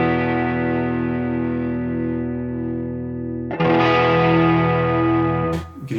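Electric guitar through a Line 6 Helix chorus modulation effect: a sustained, distorted chord rings with gentle wavering, then a fresh strum around midway swells louder before fading out near the end.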